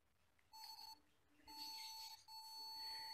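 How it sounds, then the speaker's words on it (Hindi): A multimeter in continuity mode beeps while probing an idle speed control (choke) sensor coil: two steady, piercing electronic tones, one short and one longer, with a third starting near the end, in a quiet room. "ये देखें जनाब, इस पे भी बीप आ रही है।"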